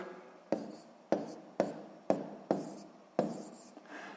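A pen writing numbers on paper during a sixth-grade math exercise, six or so distinct scratchy strokes in a quick irregular rhythm, close and fairly quiet, with no talking.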